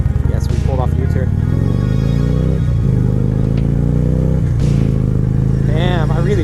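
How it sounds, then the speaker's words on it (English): A Harley-Davidson Road King motorcycle on a test ride, its engine droning steadily with shifting pitch as it rolls along, someone talking over the continuous rumble. "I'm just doing my initial test ride."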